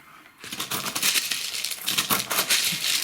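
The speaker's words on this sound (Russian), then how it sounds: "а циафлору насыплю 2 столовых ложки и только сверху" Small Cyaflora substrate granules poured onto a potted orchid, about two tablespoons, make close, quick rattling clicks in uneven bursts after a brief quiet start, like little hard pebbles tumbling onto the surface.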